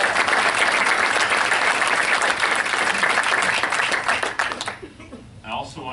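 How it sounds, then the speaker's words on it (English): Audience at a county commission meeting breaking into loud, sustained applause from many hands, a dense roar of clapping that thins out and fades over the final seconds. "so I just want to give them a round of applause for all their efforts yesterday."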